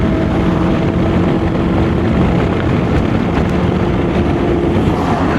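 A 1986 Honda Helix scooter cruising a state route, its engine drone buried under loud, constant wind roar throughout, with no voices.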